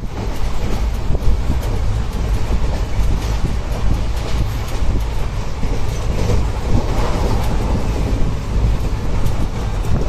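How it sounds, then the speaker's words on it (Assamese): A passenger train heard from on board, with a loud, continuous low rumble and steady clickety-clack of the wheels, plus some wind buffeting across the whole stretch. "আমি ট্ৰেইন ধৰি ললো"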